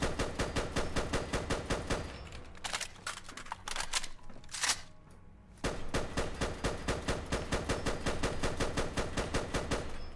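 A FAMAS DMR fires in Fallout 4 in fast, steady automatic bursts, loud and close. A long run of shots gives way to a short gap with a few scattered shots, then another sustained volley runs to the end.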